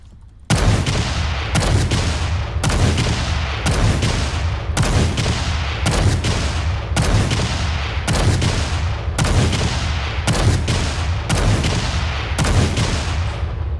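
A rocket launcher in the game Payday 2 fires about a dozen times at an even rhythm, each launch a loud booming blast that rings out before the next, with no talk over it.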